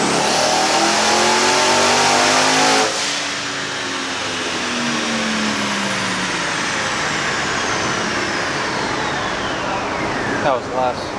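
A twin-turbo Pontiac G8 GXP roars loudly at high revs on a dyno, then lets off and winds down with a long falling whine and turbo whoosh, a short blow-off burst near the end, and voices around.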